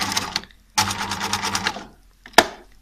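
A sewing machine runs in short bursts of rapid, rhythmic needle clatter with pauses between them, as in back stitching, and ends on a sharp single clack.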